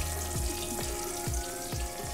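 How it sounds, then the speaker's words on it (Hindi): Chicken pieces going into hot oil for a second fry, a steady dense sizzle with repeated low bubbling pops roughly every half second, loud and close with no talking. "तो हम इसको दूसरी बार फ्राई करेंगे सीधा डाल के"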